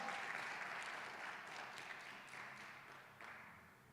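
A church congregation breaks into a burst of applause, many hands clapping at once, loud at first and slowly fading over a few seconds.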